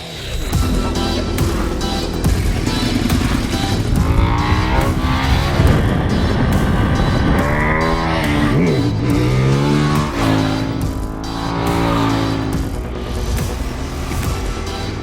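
A 2013 Ducati 848 Evo sport bike engine howls on a race track, loud and continuous, with rising and falling revs as the rider shifts through gears.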